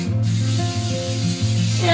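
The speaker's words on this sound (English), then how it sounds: "I'm going to start off with just a little cooking spray" Short hissing burst of cooking spray into a pot, heard over a steady low hum and background noise, close and loud.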